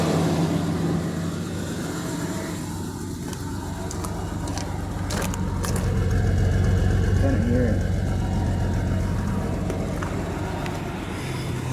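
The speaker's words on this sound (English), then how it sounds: "So right now it's running a little rough." A Ford Explorer engine idles rough with a loss of compression in cylinder 2, a steady close low rumble that swells slightly midway while a voice talks over it.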